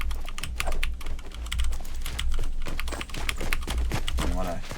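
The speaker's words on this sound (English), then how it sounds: "Can you hear my fucking loud-ass keyboard?" Loud computer keyboard typing during a Fortnite gaming session, rapid clattering keystrokes running continuously close to the mic, with someone talking over them.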